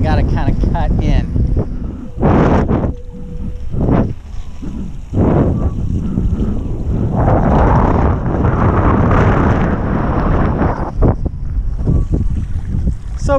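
Wind while kitesurfing on open water roars loudly against the microphone in gusty, buffeting waves, with splashes and low rumble, and someone speaks briefly in the middle.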